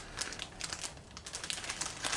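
A plastic bag from a Trumpeter RMS Titanic model kit crinkles close up, a dense run of crisp rustles and crackles with no talking.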